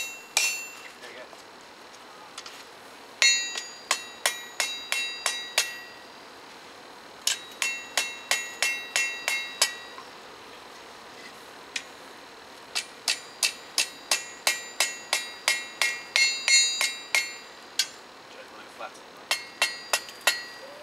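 Blacksmith cutting hot steel with a chisel struck by a hammer on an anvil: sharp, ringing metallic strikes in irregular bursts and steady runs, loud and close, with pauses between series.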